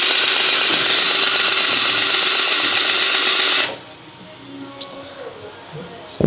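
Powered grease gun filling a boat trailer wheel hub, a loud continuous mechanical whirring buzz that stops abruptly after about three and a half seconds, followed by quiet room tone and a faint click.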